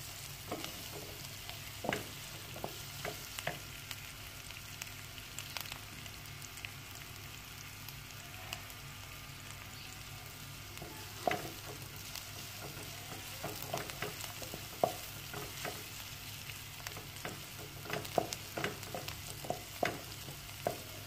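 Onions sauté in oil in a pan over a medium flame, giving a steady, soft, continuous sizzle with occasional small crackles and pops throughout, no voices.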